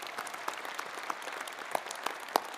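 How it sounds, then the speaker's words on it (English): A convocation crowd in a hall gives a quick round of applause, a quiet, scattered patter of many hands with sharper individual claps standing out, heard from a distance. "can I ask the gallery to kind of join me in a quick round of applause"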